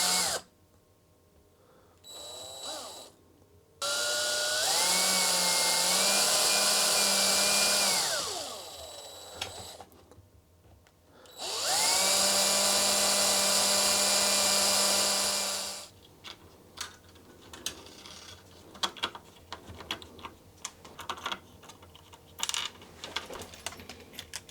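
A power drill bores into a sturdy self-built case for a retro 2001 Mini-ITX computer, with two long loud whining bursts that rise and settle, then scattered clicks and handling clatter afterward.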